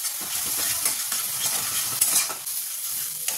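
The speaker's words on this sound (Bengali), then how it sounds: "এবার মশলাটাকে ভালো করে কষিয়ে নেব" Spice paste of chilli, turmeric, salt, sugar and cumin fries in a pan for soybean kofta curry, a dense close crackle with constant stirring scrapes and no talking.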